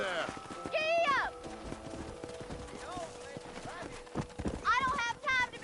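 A horse gallops in a cowboy video game, its rhythmic hoofbeats clopping under spoken game dialogue, with a couple of sharp whinnies rising at the start and near the end.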